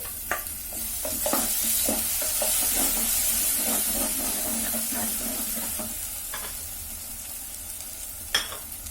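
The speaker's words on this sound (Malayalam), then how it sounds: "ഇതിലേക്ക് ഞാൻ ഇഞ്ചി പച്ചമുളക് ചതച്ചതില്ലേ ഇത് ഇട്ട് കൊടുക്കുകയാണ്" Crushed ginger and green chilli dropped into a pan with shallots and garlic for a Kerala chicken dish, sizzling steadily in oil under a run of close spoon stirs and scrapes, with a sharp clink near the end.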